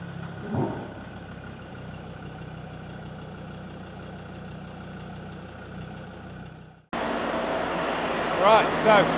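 Land Rover Td5 diesel engine fitted with a GTB450 turbo idles steadily on a dyno, a constant mid-pitched drone that drops out briefly before returning louder with a brighter, busier tone.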